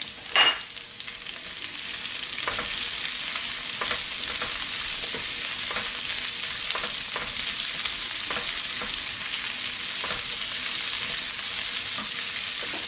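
Sliced peppers sizzle and fry steadily in a hot pan for a Chinese sesame honey chicken, with a constant hiss broken by occasional clinks and scrapes of stirring.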